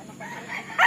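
A rooster crows briefly nearby, the call rising and getting louder toward the end of the short moment.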